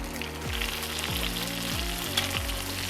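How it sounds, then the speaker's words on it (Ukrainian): Steady sizzling of lamb frying in small batches in hot oil, a dense crackling hiss with low rhythmic thumps beneath, continuous and close. "смажимо м'ясо невеликими порціями для того, щоб не зменшувати температуру масла"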